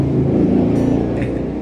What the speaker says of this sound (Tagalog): Ang ingay, daming dumadaan na tricycle ngayon guys.